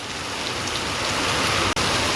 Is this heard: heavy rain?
yes